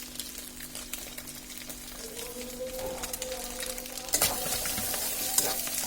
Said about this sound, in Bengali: এখন এটাকে ভালোভাবে নেড়ে নিচ্ছি আমরা